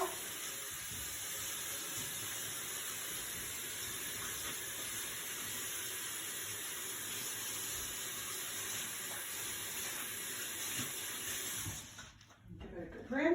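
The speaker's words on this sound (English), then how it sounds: "Give it a good rinse and dry it off." Tap water runs steadily into a sink as a peanut butter measuring cup is rinsed, a continuous broadband hiss and splash that stops abruptly near the end, followed by a few faint clatters.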